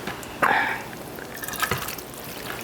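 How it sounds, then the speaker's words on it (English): Casserole mixture dumped into a baking pan gives a soft wet plop, followed by quieter sloshing and scraping as the rest slides out, close and fairly faint. "the next step is to dump it in the pan"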